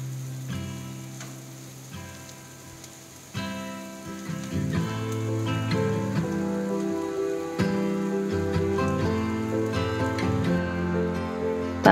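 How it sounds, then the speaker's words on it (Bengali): Chopped onion frying in a pan for oats upma, a crackling sizzle that starts soft and jumps louder after a few seconds, steady over background music. "একটু ভেজে নিলাম পেঁয়াজ কুচিটা প্রথমে।"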